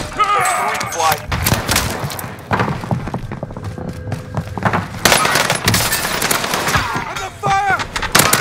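Loud bursts of gunfire and explosive shots in a battle royale video game, mixed with game announcer voice lines and effects, continuing through the clip in uneven clusters.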